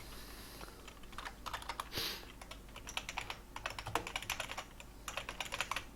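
Quiet, close typing on a computer keyboard during AutoHotkey script editing, rapid irregular clicks in bursts with a brief louder thump partway through, no talking.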